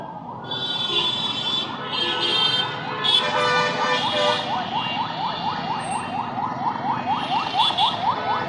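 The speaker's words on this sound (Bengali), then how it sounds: "দেখতে পাচ্ছি অ্যাম্বুলেন্স যাচ্ছে রুগী নিয়ে" A wailing ambulance siren sweeps up and down repeatedly over steady traffic rumble in Dhaka at night, loud and continuous throughout.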